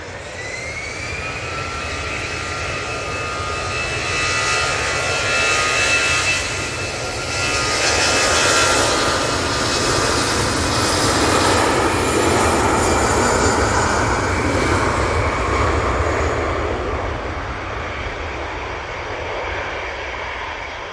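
EasyJet Airbus A320 departing Manchester Airport for Belfast, a loud sustained jet engine roar that swells in the middle and tapers slightly, with a rising turbine whine near the start.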